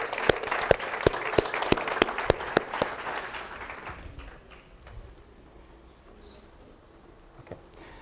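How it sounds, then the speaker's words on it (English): An audience at a chapter state-of-the-chapter meeting applauds. A series of sharp, evenly spaced claps rings out first, then a broader round of scattered clapping that gradually thins and fades to quiet. "How about a big round of applause for that?"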